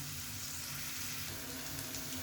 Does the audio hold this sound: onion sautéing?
yes